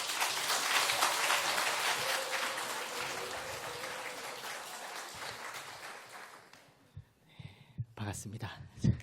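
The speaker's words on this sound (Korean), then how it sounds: "목사님 나오실 때 큰 박수로 목사님 같이 한번 우리 환영했으면 좋겠습니다." A church congregation at a Korean Sunday worship service applauds in a broad, steady wave welcoming the pastor, fading after several seconds as voices and movement take over.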